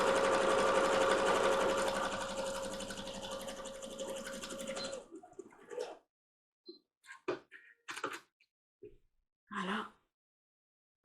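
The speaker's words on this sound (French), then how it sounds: "on fait un point zigzag sur tout le long" Domestic sewing machine running a zigzag stitch on a washable cloth face mask: a continuous close mechanical whir for about five seconds, then it stops and a few soft handling clicks and knocks follow.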